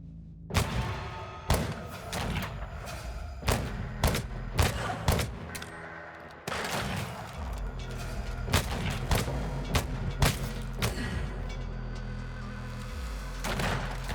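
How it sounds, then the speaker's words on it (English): Enemies fire on the player in Weird West, producing a rapid, irregular volley of loud gunshots and heavy thuds. The shots come in clusters over a sustained, noisy backdrop of battle. "They were shooting me."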